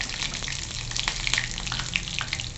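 Mustard seeds and green chillies sizzle in hot oil for a tempering, with a steady crackling hiss and scattered pops close by and no voices.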